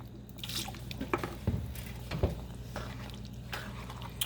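Lemon juice added to peach cobbler filling: soft wet drips and liquid splashes over a steady low background hum, close and quiet.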